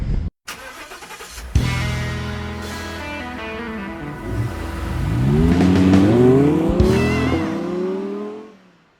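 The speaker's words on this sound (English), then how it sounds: "This is parking lot 7. It's the free parking lot" In a parking lot at the 2022 Daytona 500, a nearby car engine cranks and catches, then holds a rising, revving drone that swells and fades over several seconds.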